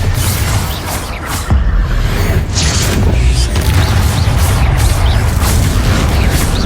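Spells crack and boom in Hogwarts Legacy during the Trial of Niamh Fitzgerald, loud continuous blasts and bursting impacts piling up over dense combat noise.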